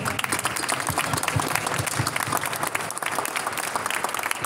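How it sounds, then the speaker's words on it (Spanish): Steady, dense applause from an audience at a taekwondo school event in Santo Tomé, Corrientes, honouring the instructors; loud, continuous clapping with crowd noise and no break throughout. "va un fuerte aplauso para ustedes"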